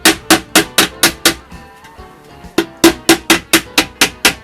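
A leather mallet strikes a metal horn on an anvil in a quick, regular series of sharp, ringing blows, pausing for about a second midway before the hammering resumes.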